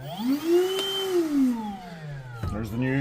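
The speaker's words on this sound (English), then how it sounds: "Here's the brushless vac." A Milwaukee M18 brushless vacuum runs with a rising and falling whine, its motor pitch sweeping up then down, close and fairly loud with a brief clatter near the end.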